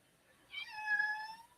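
A pet cat gives a single drawn-out meow, faint and fairly close, in an otherwise quiet room.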